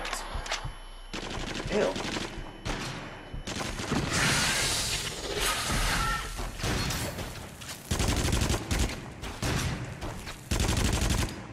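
Rapid, dense gunfire fills the horror shooter Until Dawn: Rush of Blood, with sustained bursts and loud cracks running almost without a break, and a player's brief exclamation sits underneath.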